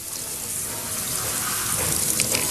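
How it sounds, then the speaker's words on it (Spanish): Clean running water pours steadily over coal slag as it is washed, a continuous broadband splashing and gushing that stays loud and unbroken. "lavamos cuidadosamente con agua limpia la escoria de carbón para limpiar todas las impurezas que pueda contener"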